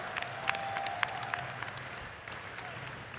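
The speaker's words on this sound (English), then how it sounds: "Clap it up for this whole top 6" A crowd at the Evo 2023 Melty Blood: Type Lumina top 6 fighting game tournament claps for a few seconds, the applause fairly faint and thinning toward the end.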